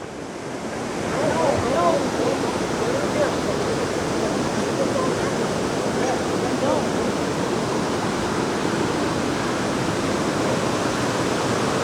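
Bond Falls waterfall roaring in a steady, dense rush of broadband water noise that swells in after the first second and stays loud and constant, with faint voices in the background.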